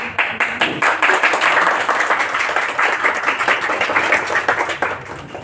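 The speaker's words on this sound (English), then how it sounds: "Let's cheer for Dhruv as well" An audience at a career talk claps steadily, a dense run of close handclaps at even loudness that fades slightly toward the end.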